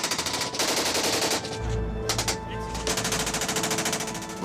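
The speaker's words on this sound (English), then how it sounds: "And they were being just fired upon from the trees." Rapid automatic gunfire rattles continuously from the treetops at a Chinook helicopter, bursts overlapping in dense, loud volleys under a deep steady rotor drone, with a brief lull before the shooting resumes.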